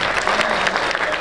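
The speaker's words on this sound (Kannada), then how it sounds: "ಜೋರ್ ಚಪ್ಪಾಳೆ" An audience claps loudly at a Kannada horror film event for the dialogue writer, a brief, dense burst of applause filling the space, with a few voices mixed into the crowd noise.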